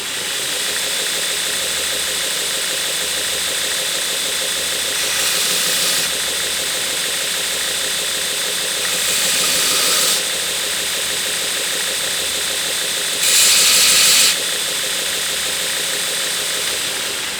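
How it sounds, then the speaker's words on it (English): Continuous harsh grinding hiss of a belt grinder freehand grinding a knife bevel, steady and loud, with three brief passes where the abrasive tone brightens and intensifies. "I won't be able to talk during it because of the noise of the grinder"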